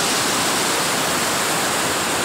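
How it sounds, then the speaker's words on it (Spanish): A countryside stream near Benaoján in Málaga, with water rushing in a loud, continuous hiss close by and no other sounds. "les muestro el arroyo"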